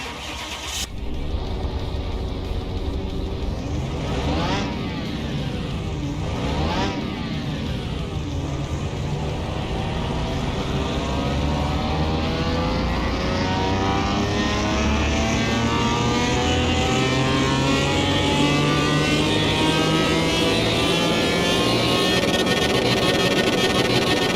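A car engine on a dyno fitted with a performance exhaust in Car Mechanic Simulator 21, starting with a sharp catch, blipping twice, then revving in one long steady climb to a loud sustained high-rpm roar.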